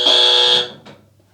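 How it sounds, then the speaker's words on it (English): An electric buzzer sounds one loud, steady, harsh tone for about half a second, then cuts off, followed by a faint short click. "It's a buzzer."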